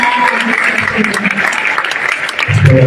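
An audience at a university lecture hall in Indonesia applauds, a dense continuous patter of many hands clapping loudly, with a voice speaking over it.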